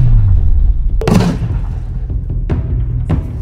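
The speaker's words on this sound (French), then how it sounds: "Alors l'explosion est incroyable et il y a beaucoup de fumée" An explosive charge blows up a microwave oven outdoors: a single loud, sharp blast about a second in, followed by a rumbling tail and two smaller, sharper pops later on.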